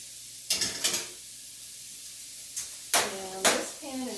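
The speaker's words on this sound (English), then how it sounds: "I can really throw the mushrooms and the onions around" Mushrooms and onions tossed in a hot, round wok-like pan, giving sharp sizzling bursts with scraping and clatter, a pair of tosses early and three more toward the end, with talking in between.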